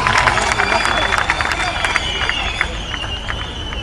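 A Tamil political rally crowd applauds with dense, sustained clapping and cheering for the police during a politician's speech on the Cauvery issue, loud and steady throughout, with crowd babble underneath.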